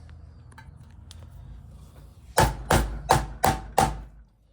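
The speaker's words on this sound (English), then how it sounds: "Hammer it down." Five sharp, evenly spaced hammer blows set metal hardware on a leather dog collar, close and loud, following a few faint taps and handling noises.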